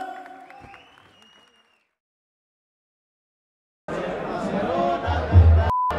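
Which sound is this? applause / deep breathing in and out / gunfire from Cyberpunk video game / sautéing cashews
applause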